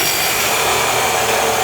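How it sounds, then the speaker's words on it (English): A chop saw cuts through an exhaust pipe for a dual exhaust system on a 2009-2018 RAM 1500 5.7L, producing a loud, steady, harsh grinding roar that stays unbroken from start to finish. "I'm gonna make my cut with my chop saw at 23 inches, cut this pipe"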